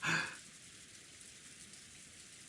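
Steady rain falls in a visual novel game, a continuous even hiss that follows a louder burst at the start, with no voices.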